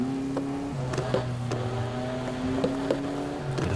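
A car engine in the racing game NFS Heat, a Honda Civic FK2 build, hums in a steady droning tone with shifting pitch steps and a few faint clicks, playing alone at moderate level.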